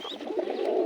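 Brooding pigeons sitting on eggs in a loft of fancy breeds such as Birmingham Rollers and Damascenes give a brief, low, throaty coo that rolls steadily at close range, with no voices present.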